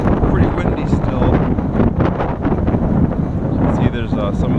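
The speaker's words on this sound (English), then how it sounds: "pretty windy still." Strong gusty wind on the Santa Ana River Trail the day after a big windstorm, loud buffeting roar across the microphone throughout, with no clear voice.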